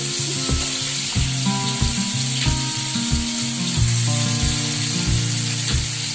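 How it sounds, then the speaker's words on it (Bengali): Onions frying in a pan, stirred now and then, with a steady close sizzle and repeated scraping knocks of the utensil against the pan. "পেঁয়াজ ভাজা এসে যাবে হালকা করে একটুখানি নেড়ে নিলাম"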